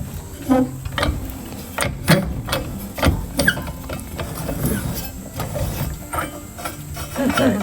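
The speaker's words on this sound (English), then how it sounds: "It's an algonac prop puller." An Algonac propeller puller being cranked on a Lyman boat's bronze prop shaft gives off a string of sharp metallic clicks and ratcheting clatters, close up and irregular, over a low background rumble, with no voices.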